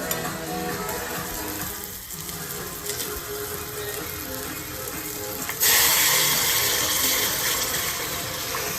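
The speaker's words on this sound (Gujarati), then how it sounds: "હવે આ વઘાર જ ખાલી છે ને આમાં નાખવાનો છે" Hot vaghar tempering sizzles steadily as it is poured into a dish of tomatoes, a loud continuous hiss that jumps sharply louder partway through and stays high, with no talking.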